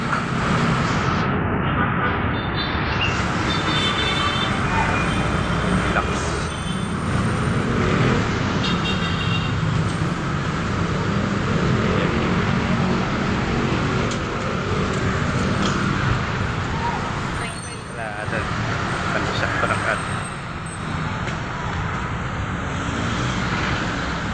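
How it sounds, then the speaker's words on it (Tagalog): Morning highway traffic at Camias and Kalangkat, with a continuous loud roar of passing vehicles and engines close by and a brief dip in the noise partway through. "Yan, traffic na."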